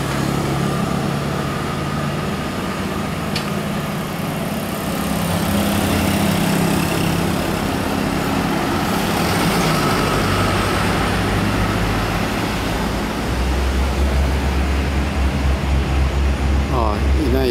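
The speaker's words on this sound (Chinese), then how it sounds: "火车要来咯" A train approaches Ruisui station in Taiwan, heard as a steady, loud engine rumble that builds and deepens toward the end.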